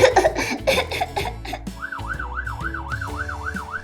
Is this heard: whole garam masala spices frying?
no